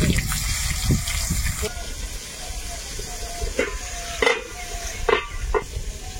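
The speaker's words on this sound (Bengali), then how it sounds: "এই মাছ একটু ফোটে আর কি, ওই চটপট আওয়াজ হচ্ছে" Salted, turmeric-rubbed river fish fries in hot oil in a wok. A continuous sizzle is broken by several sharp crackling pops spaced a second or so apart, close and clear.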